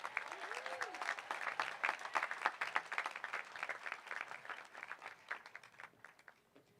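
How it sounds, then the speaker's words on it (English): A crowd at a high school graduation ceremony applauds with dense clapping that swells, holds strong, then thins out toward the end, with a faint whistle early on. "How about a round of applause for Ms."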